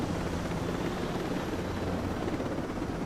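Helicopter rotor and engine noise in the tactical shooter game Ghost Recon Breakpoint, a steady dense whir and drone that stays loud and constant throughout, with no talk.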